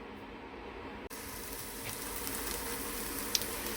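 Onions hit a dry pan with no oil and start a steady, hissing sizzle that continues evenly after an abrupt start, close and moderately quiet, with a faint clink near the end.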